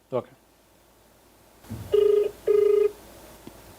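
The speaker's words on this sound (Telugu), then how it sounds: "రింగ్ అవుతుంది సార్" Two long electronic ringback tones buzz over a phone line after a brief click, steady and fairly loud.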